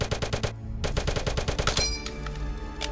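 Rifle and machine-gun fire in the World War II shooter Brothers in Arms 2: rapid bursts of loud close shots in quick rhythm, a brief pause, then another sustained burst with ringing metallic tails.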